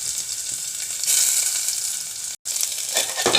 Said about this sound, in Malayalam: അടുത്തത് പരിപ്പ് താളിക്കാൻ വേണ്ടി കടുക് പൊട്ടുന്നു. ഉള്ളിയും കടുകും കരിവേപ്പിലയും ഇട്ടു